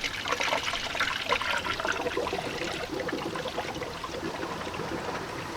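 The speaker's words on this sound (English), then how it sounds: "So I'm gonna go ahead and just fill up this funnel." Coolant poured into a funnel set in the radiator of a Nissan Titan, a steady close splashing and gurgling stream that runs for several seconds without pause.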